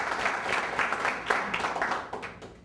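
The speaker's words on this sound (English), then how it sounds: "Big round of applause to us, Isaac." An audience at a magic show applauds a volunteer called to the stage, with a lively burst of many hands clapping close and loud, then gradually thinning out.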